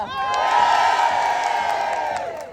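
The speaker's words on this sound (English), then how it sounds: "let's have a cheer" A large crowd at a women's rights march in London cheers, whoops and claps in one loud, sustained roar that swells and then slowly fades.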